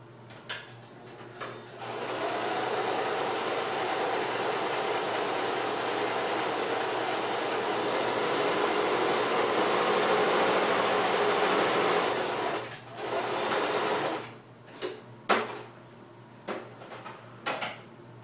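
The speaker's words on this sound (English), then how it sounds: "And stitch it right up" A sewing machine stitching a cloth over-the-shoulder bag, running in one loud steady whirring burst for about ten seconds, then a brief restart and a few clicks and handling knocks as it stops.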